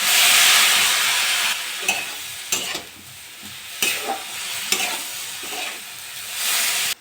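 Water is poured into a pan of grated coconut, sugar and cracked cardamom, bursting into a loud hissing sizzle that fades while a spoon scrapes and stirs in irregular strokes, close up.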